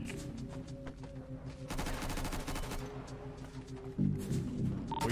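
Rapid automatic gunfire in GTA 5 RP: bursts of close, loud shots in sustained volleys, with a heavier crack near the end and voices faintly beneath.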